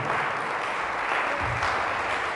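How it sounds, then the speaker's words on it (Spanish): Church congregation applauding after a scripture reading, a dense, steady wash of clapping that holds at an even level throughout without pause. "Fuerte ese aplauso a la palabra de nuestro Señor y Salvador Jesucristo."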